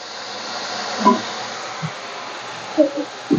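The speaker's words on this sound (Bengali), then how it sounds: "একটু এর সঙ্গে একটু ভেজে নেবো আদাটা, যাতে কাঁচা গন্ধটা না থাকে।" Ginger frying in a pan for a Bengali beetroot and carrot curry gives a steady, soft hiss with a few light clinks of utensils, no talking.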